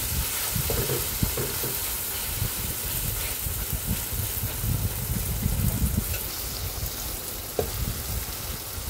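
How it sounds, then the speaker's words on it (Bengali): Onions frying with cinnamon in a pan, a loud, continuous close sizzle broken by rhythmic stirring scrapes and occasional knocks of the spoon. "দারুচিনি দিয়ে ভালোভাবে নাড়াচাড়া দিয়ে নেবেন।"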